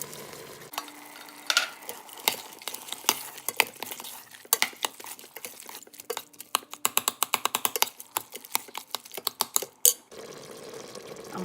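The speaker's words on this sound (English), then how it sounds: "I'm adding the 1 can of Ro Tel diced tomatoes and green chilies. This is 10 ounces to the pot." Canned Ro Tel diced tomatoes with green chilies tipped into a pot of chili and stirred, a dense run of close, wet scraping and clanking spoon strokes that quickens before a final knock and settles into soft simmering.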